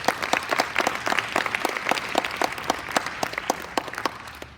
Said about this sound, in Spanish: Si usted le regala una fuerte ofrenda de palmas a Jesús, yo se lo agradezco de corazón.